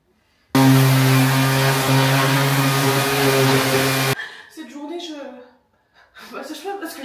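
An electric sander with a vacuum cleaner attached roars loudly and steadily for about three and a half seconds during home renovation work, then cuts out abruptly, followed by talking and soft laughter.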